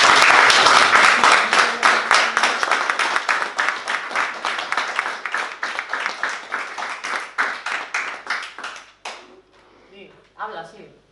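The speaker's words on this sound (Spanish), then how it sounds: "Un aplauso para ellos." Loud crowd applause at a talk on the last executions of the Franco dictatorship, dense clapping that gradually thins and fades out, followed by a short stretch of speech.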